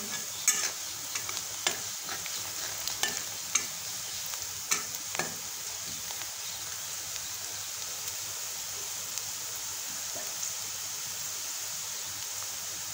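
Spices, garlic and cumin are stirred while they fry in oil for paneer bhurji. The sizzle is soft and continuous, and a spoon scrapes and taps now and then.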